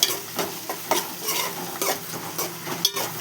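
Chicken frying in a pan, browning toward golden, with a constant sizzle and repeated clacks of a spoon stirring against the metal, close and without speech.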